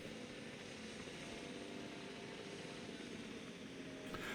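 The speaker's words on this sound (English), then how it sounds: "the helicopter is there doing it" Helicopter rotor drone from the video game Jurassic World Evolution 2, a steady whirring engine noise holding at an even level throughout.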